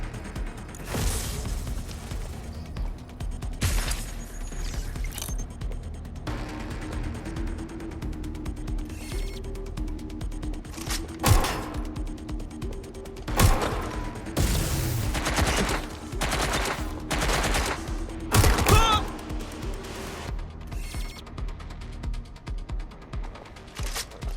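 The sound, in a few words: gunfire in the video game Watch Dogs: Legion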